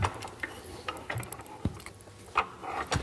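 A restored old wartime-era water pump is worked by hand, giving irregular mechanical clanks, creaks and ratcheting knocks from its moving parts, close and fairly quiet, with no talk.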